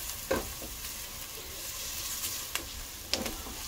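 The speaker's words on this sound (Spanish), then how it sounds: "Vamos a guisarla con cebollita." Onion gently frying in a pan for a cheese enchilada sauce, a steady soft sizzle with a few sharper clinks of a utensil against the pan.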